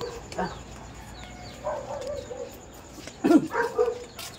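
A few barks and yelps from dogs on a road at a moderate distance, with birds calling in the background, outdoors.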